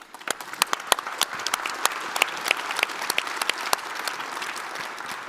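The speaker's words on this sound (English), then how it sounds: "let's give our panelists a big round of applause" An audience applauds a conference panel for several seconds, with sharp individual claps standing out over a steady bed of clapping.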